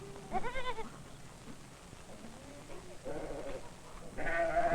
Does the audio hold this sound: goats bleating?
yes